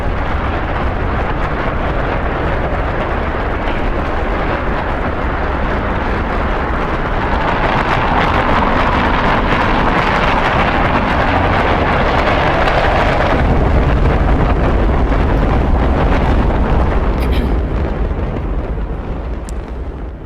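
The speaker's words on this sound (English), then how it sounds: "We have a liftoff. 32 minutes past the hour. Liftoff on Apollo 11." A recording of the Apollo 11 rocket liftoff plays as a loud, continuous, deep roar that swells and rumbles for about twenty seconds before easing slightly, with no voices over it.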